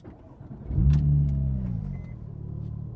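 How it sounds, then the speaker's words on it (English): An Arctic Silver 2002 Porsche 911 GT2 (996) engine swells as the car accelerates while driving, a close, full-bodied growl rising and then settling into a steady drone. "Today I am driving the Arctic Silver 2002 911 GT2 offered by Silver Arrow Cars on Bring a Trailer"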